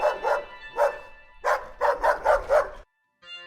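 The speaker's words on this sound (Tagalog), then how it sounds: "tumahol ng malakas yung aso ng pinsan ko sa labas ng bahay" A dog outside a house barks loudly and sharply, several barks in quick bursts with short pauses, close by, ending in brief quiet.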